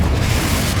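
A Confringo spell explosion in Hogwarts Legacy, a loud low rumbling boom that fills the moment and has no voices over it.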